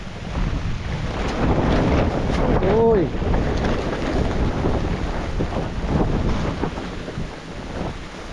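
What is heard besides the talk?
wind blowing before a typhoon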